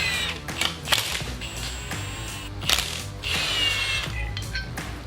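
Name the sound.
ratchet removing bracket from old power steering pump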